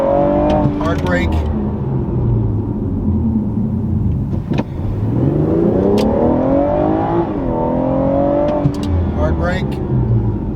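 BMW F36 440i with a slotted and drilled brake kit: engine note rising through gears under acceleration, dropping away as the car brakes hard, then rising again; loud in-cabin sound with someone talking over it.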